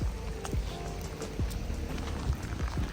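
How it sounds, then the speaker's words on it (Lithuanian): Heavy rain falls in a soft, even hiss heard from some distance, broken by a few dull thumps, with no one speaking. "Šiandien ypatingai stipriai lyja."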